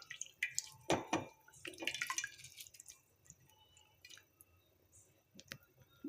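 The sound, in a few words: squeezing curry leaves, cumin and dried red chilies by hand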